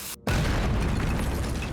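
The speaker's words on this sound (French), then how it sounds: "avec les nains, si, ça fait un énorme boom, parce qu'ils font de grosses explosions sous la terre" A huge cartoon boom from dwarves blasting underground: a short gap of silence, then a loud, deep explosion that stays full and rumbling to the end with no fade.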